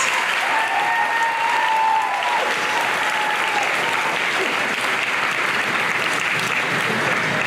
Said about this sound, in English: please join me in congratulating their success with a big round of applause